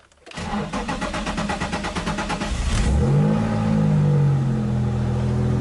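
A Nissan 350Z engine cranks with a rapid, even churning for about two and a half seconds, then catches and settles into a steady, close idle with nothing else heard.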